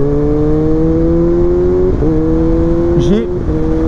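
A 2020 Kawasaki ZX6R with a 136 hp engine runs in first gear, its steady tone holding with brief dips and shifts in pitch, loud and close.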